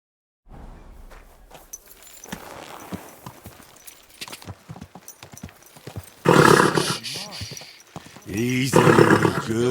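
Horse hooves clop in a quick rhythm close by in the video game Kingdom Come: Deliverance II, then the horse lets out two loud, drawn-out whinnies, with voices speaking in between.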